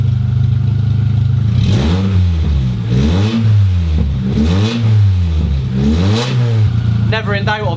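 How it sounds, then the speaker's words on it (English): A raw, unmuffled Toyota MR2 engine, running with no exhaust fitted on its first start in 12 years, revs up and down four or five times in close succession, loud and near, with a rough, blaring tone. "Engine sounds like with no exhaust fitted."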